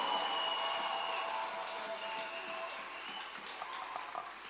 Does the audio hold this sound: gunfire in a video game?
no